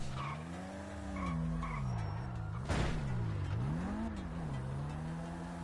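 A car in GTA Online skids and squeals its tires while the engine revs up and down in wavering sweeps, with a loud burst near the middle, all close and without talk.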